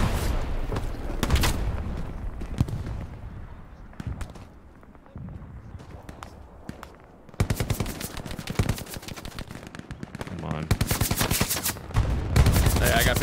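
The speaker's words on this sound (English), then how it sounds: "Yeah, I hear him shooting." Gunfire from an enemy soldier in a WW2 video game: bursts of machine-gun and rifle fire, some farther off and some close and loud, with the heaviest rapid volleys in the second half.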